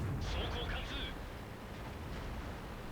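A tank cannon fires once in a tank video game, a deep booming blast followed by a rumbling decay, with game noise underneath.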